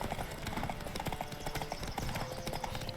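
Hooves clip-clopping at speed during a horse race in The Witcher 3, a rapid, even drumming of hoofbeats close by, repeated steadily over three seconds against a constant background bed.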